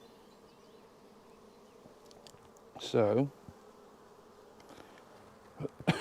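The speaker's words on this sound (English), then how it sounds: "there's quite a lot of bees in here" Honey bees in an open beehive during an apiary inspection, a faint low buzzing hum running steadily throughout, with a brief louder burst near the middle and soft handling noises toward the end.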